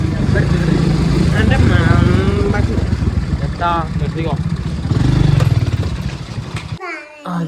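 A vehicle engine runs steadily close by, a continuous low hum beneath frequent talk, including a voice, and cuts off near the end.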